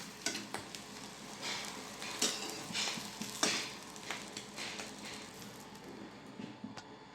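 Eggs fry in a pan with a steady sizzle, with scattered sharper crackles and pops rising over the hiss, close by and moderately loud.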